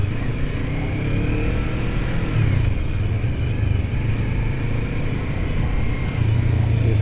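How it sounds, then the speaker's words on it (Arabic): A motorcycle engine runs on a race track, a loud, steady droning rumble with sustained revving and a slight pitch shift midway, no voices over it. "دابا عندي موتور اول مره غادي يدخل البيست الصراحه."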